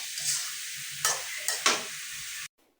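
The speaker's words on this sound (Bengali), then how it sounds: "এই যে বেগুন কিন্তু দিয়ে দিলাম আর ভালো করে নাড়াচাড়া করতে থাকবো।" Brinjal and egg sizzle in a hot pan while a utensil stirs them, a steady frying hiss broken by a few sharp scraping strokes before it cuts off abruptly.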